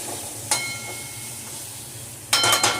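Capsicum sauteing in a pan gives a soft, steady sizzle, with a sharp clink early on and a louder clatter of stirring near the end.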